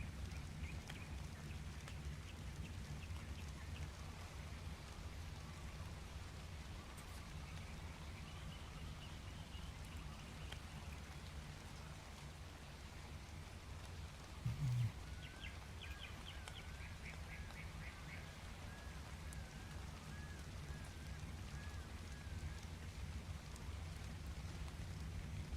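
Rain in the video game Ark Survival Evolved, modded, falling as a steady soft hiss through the whole stretch, with a faint duck-like quack and a brief thump partway through.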